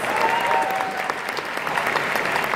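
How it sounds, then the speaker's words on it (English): A convention audience at a voice-acting panel applauds, producing a continuous, even wash of clapping from many hands for the full few seconds without talk over it. "round of applause"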